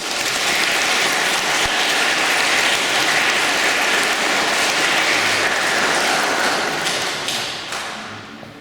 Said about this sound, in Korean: 박수로 크게 환영해 주시기 바랍니다